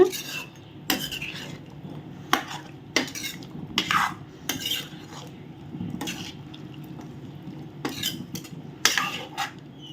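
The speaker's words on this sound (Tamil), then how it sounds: "இந்த லெமன் சாறு வந்து எல்லா சிக்கன்லேயுமே வர்ற மாதிரி நல்லா மிக்ஸ் பண்ணி விட்ருங்க" Chicken being mixed with lemon juice in a pot, a metal spoon clanking and scraping against the pot in repeated sharp knocks over soft wet squishing, close and alone.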